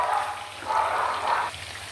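Pork strips frying in a pan of hot oil, a steady close sizzle and crackle with soft swelling bursts, no voices over it.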